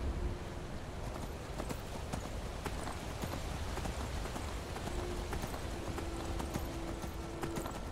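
Horse hooves clip-clop steadily through the rain in Skyrim, a continuous patter of rainfall and regular hoofbeats close by, with no talk over it.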